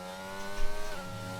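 A McLaren race car engine in a racing game at the Austria circuit, a steady high-pitched whine that swells briefly as the car passes, with no talk.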